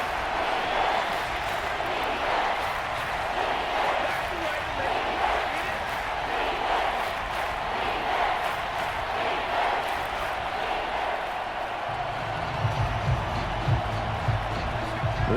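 A stadium crowd roars in the Madden NFL 25 football game, a continuous, loud, dense din, with a deeper rumble swelling near the end and a commentator speaking over it.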